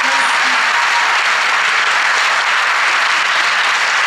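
Loud, dense audience applause fills a Miss Côte d'Or beauty pageant hall, a continuous wash of many clapping hands at a steady level from start to finish with no voices.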